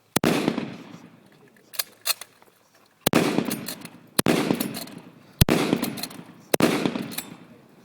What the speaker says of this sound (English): we'll fire off 5 fairly quick so you can see how quick this bolt action rifle will work